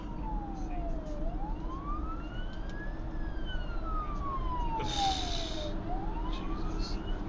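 A Yonkers fire department truck drives slowly with its siren wailing, a rising and falling tone sweeping up and down over steady road and engine noise, with a brief brighter burst midway; no one speaks.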